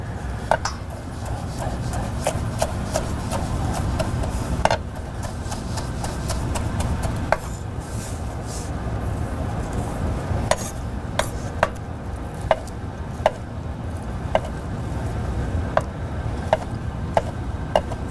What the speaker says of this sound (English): We're gonna put this on the chopping board and we're just gonna give it a nice rough chop